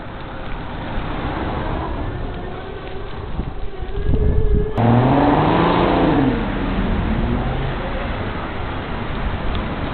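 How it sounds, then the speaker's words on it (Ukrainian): A car drives past on a street, its engine and tyre noise rising and swelling, then fading out. Wind buffets the microphone throughout, and a faint voice may be present in the background. "Там машина їде."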